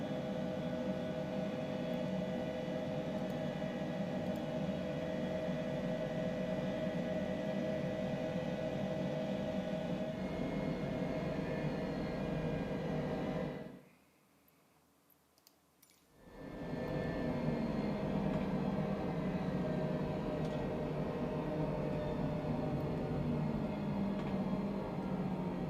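An Airbus H135 helicopter in Microsoft Flight Simulator 2020 drones with a steady turbine and rotor hum during shutdown. The sound cuts out to near silence for about two seconds midway, then resumes at the same level.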